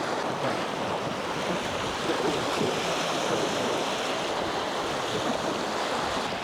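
Calm waves lap along the bay side of the Hel Peninsula in Poland, a steady, even wash of water mixed with wind noise that stays constant throughout, with no voices.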